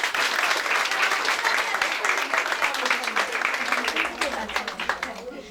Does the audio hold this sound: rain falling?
no